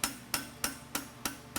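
Blacksmith's hammer strikes a horseshoe on an anvil at a world championship forge, five sharp metallic blows in an even rhythm about a third of a second apart, each ringing briefly before the next, with no voices.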